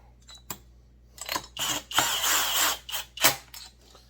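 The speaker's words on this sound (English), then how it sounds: "So let's put some screws in it." Screws driven into a Holzfforma G372 chainsaw with a power drill: several short whirring, ratcheting bursts of varying length, close by, with brief pauses between.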